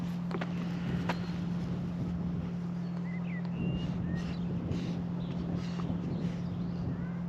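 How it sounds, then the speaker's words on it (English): A steady 40 hertz low tone plays from a speaker outdoors, holding unbroken and fairly loud for the whole stretch beneath wind noise and scattered faint outdoor sounds, with no talking. "and if you can hear it, the 40 hertz playing behind me"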